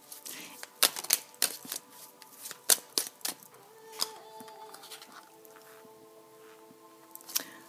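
Tarot cards are shuffled and drawn at close range: a run of sharp, crisp flicks and snaps, then quieter sliding and rustling as cards are laid out, with no talking.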